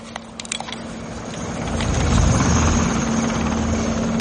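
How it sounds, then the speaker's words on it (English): In a Rambo III scene a helicopter approaches. A droning rotor hum swells from quiet to loud and steady, with a few faint clicks and knocks at the start. "So we hear a helicopter coming."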